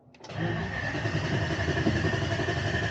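An engine cranks and catches after a wiring harness update, firing up abruptly and settling into a loud, steady running note close by, with no talk over it.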